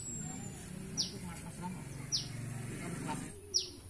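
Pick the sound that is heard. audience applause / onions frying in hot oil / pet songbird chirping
pet songbird chirping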